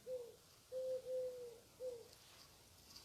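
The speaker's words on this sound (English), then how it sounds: "do you hear the pigeon out here?" A pigeon coos outdoors in four soft, low calls, two short and two longer, over a faint background hiss with no one talking.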